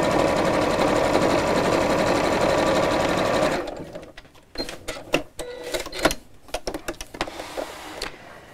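Sewing machine stitching a fabric storage box, a loud continuous buzzing run for a few seconds, then stopping, followed by scattered handling clicks and rustles of fabric.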